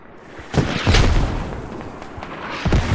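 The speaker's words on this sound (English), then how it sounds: "Mortars coming down on insurgents" Mortar shells land in the video game Squad on the Al Basrah map, with a few heavy booms from moderately close and a rumbling background between the impacts.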